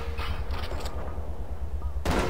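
Gunfire in the video game Cortex Command, with rapid weapon shots early on, then a loud, sharp burst of blasts near the end over a constant low background hum.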